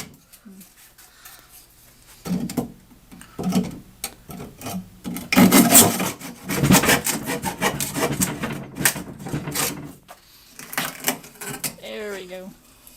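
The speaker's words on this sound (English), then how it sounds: "This is our go-to saw." Sawing into wood while repurposing an old cabinet into shop storage, a saw rasps in uneven bursts of cutting, moderately close, with people talking intermittently between the strokes.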